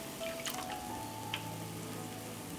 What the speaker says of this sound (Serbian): I tako svaki put umočite kašiku u smesu i na ulje.